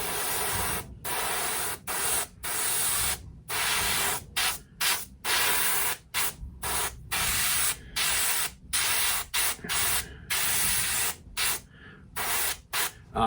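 An airbrush hisses out paint in a steady run of short and long bursts, starting and stopping in quick succession, close and fairly loud with no voices.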